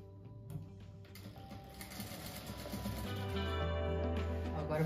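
A sewing machine stitches two patchwork blocks together for a rug, giving a steady, close mechanical whir that grows slightly louder and deeper partway through.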